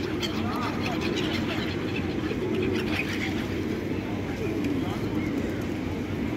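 Pigeons coo softly and other birds call in a busy city, low under a constant wash of urban background noise and distant traffic.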